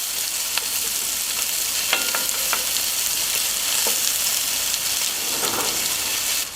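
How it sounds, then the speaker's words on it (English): Vegetables and rice fry in a Dutch oven with a loud, constant sizzle, broken by occasional scraping and knocking of a utensil stirring the pot. "Make sure you give it a good stir from all sides and let that Dutch oven come up to temperature."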